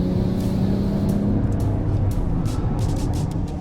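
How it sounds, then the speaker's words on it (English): A 2025 Mercedes GLS 450d AMG-Line diesel SUV pulls hard under acceleration, its engine a low, steady grunting drone heard from inside the cabin, continuous and fairly loud with a faint broadband rush layered over it. "and you can hear the engine grunt."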